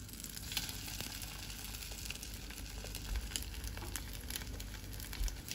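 Egg-dipped bread fries in a pan as French toast, a steady, close hiss and sizzle with scattered pops and crackles running through the whole stretch.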